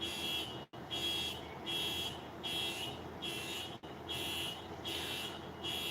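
An electronic alarm wails steadily in repeating pulses, about one per second, continuous and moderately loud with no voices.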